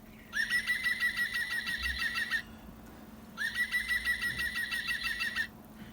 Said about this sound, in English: It's a green woodpecker.